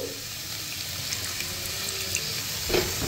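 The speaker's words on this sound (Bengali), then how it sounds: "এবার এর মধ্যে জল দিয়ে দেবো একটুখানি" A little water goes into a pan of sautéed spices for prawn malai curry, making a steady watery hiss and gush with a brief louder splash near the end, with no voices.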